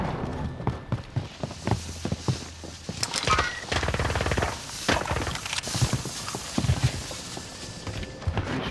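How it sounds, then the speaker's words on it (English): Gunfire in Call of Duty: Modern Warfare, a series of sharp shots and bursts scattered through a busy game soundscape, moderately loud amid other effects. "Who are you shooting at?"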